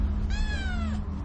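A cat gives a single clear, drawn-out meow, close and alone, lasting under a second.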